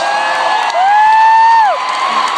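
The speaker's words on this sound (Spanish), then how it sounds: "Un fuerte aplauso." A concert arena crowd at a show in Dallas cheers loudly, with one long sustained whoop or whistle-like tone rising over the steady roar of the audience.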